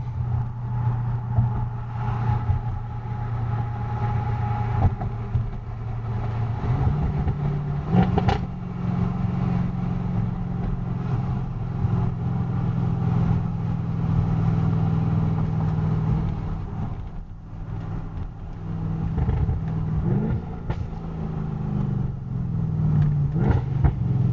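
Car driving through downtown Pittsburgh at night, captured by a 70mai T800 dash cam: a steady low engine and road rumble, moderately loud, with a few brief knocks and shifts in tone, no voices.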